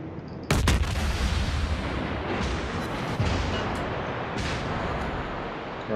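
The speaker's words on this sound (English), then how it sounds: "I'm going to use some armor piercing on this guy because I don't seem to be getting anywhere with high explosives" Heavy naval guns in the World of Warships game fire armor-piercing shells. One booming salvo hits sharply, then rumbles on with a dense, roaring tail and a few smaller bangs, loud and without talk.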